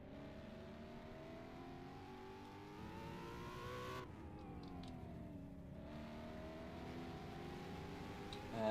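Race car engines pulling away at the green flag in a racing video game, several cars droning and rising in pitch through the gears together, steady and fairly faint, with a brief shift dip midway.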